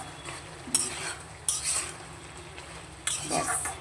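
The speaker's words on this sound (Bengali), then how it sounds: "এবার ভালো করে মিলে চেড়ে নিয়ে তরকারিটাকে এবার নামিয়ে দিলাম" Potato and drumstick vegetable curry being stirred in a pan with a spoon, producing repeated scraping and clinking strokes over a low, steady sizzle at moderate volume.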